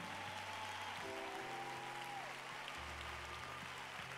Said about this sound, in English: would you clap your hands as they come?